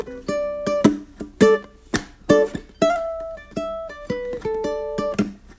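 A solo ukulele plays the opening bars of a blues lick that mixes single notes with chords. Plucked notes and strummed chord stabs come in an uneven, catchy rhythm, close and clear with no talking.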